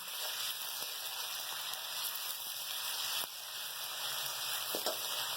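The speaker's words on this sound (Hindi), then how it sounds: "इसके साथ हम ये अदरक लहसुन डालेंगे" Ginger and garlic fry in hot oil with a steady, dense sizzle that runs unbroken throughout, broken only by a few faint clicks and one brief dip; no one speaks.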